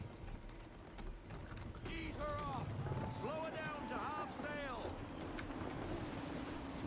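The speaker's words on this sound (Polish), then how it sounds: "Mocna wichura." Strong gusting wind and rolling sea noise on a sailing ship in Assassin's Creed 3, a steady broadband roar with a game voice speaking partway through.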